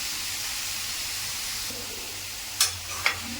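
Banana stem frying in a pan with curry leaves and turmeric, giving a steady broadband sizzle and hiss throughout, with a couple of brief stirring scrapes near the end.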